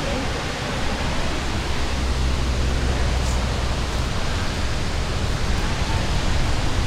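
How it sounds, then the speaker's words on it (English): The Wailuku River near Hilo rushes down through dense rainforest by a waterfall, a loud, steady roar of churning water filling the air close by, with a low rumble underneath and no voices. "this is the Wailuku River coming down"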